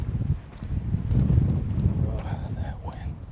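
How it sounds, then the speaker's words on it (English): Outdoor wind gusts into the microphone, producing loud, uneven low rumbling buffets that swell and fade over a few seconds. "that wind. There was a big gust"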